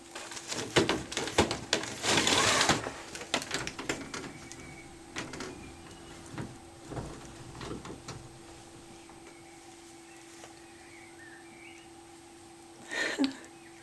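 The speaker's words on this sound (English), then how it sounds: "There's a gorgeous little bird singing its little heart out." Faint, distant birdsong from a small bird singing at night outside a window, heard in a quiet room with a steady electrical hum, after a burst of rustling and a few knocks.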